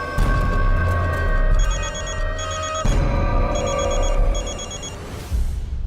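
A telephone rings in repeated electronic bursts, each short trill following the last in an even pattern, loud and close over a low background hum, with no speech.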